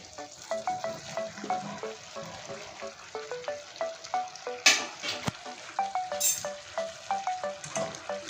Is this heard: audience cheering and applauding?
no